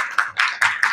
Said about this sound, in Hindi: वेरी गुड, ताली बजा लें खुद के लिए